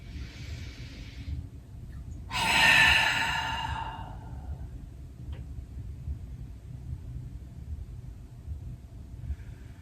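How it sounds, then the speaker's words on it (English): A single long, audible exhale during a yoga forward fold, a breathy whoosh rising suddenly and fading away over about two seconds against a quiet low room hum. "Let your back lengthen out. And exhale out."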